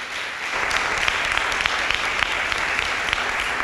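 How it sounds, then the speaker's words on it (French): Steady, dense applause from a studio audience welcoming a guest on a youth forum anniversary show, sustained evenly throughout with no speech over it. "sous vos applaudissements"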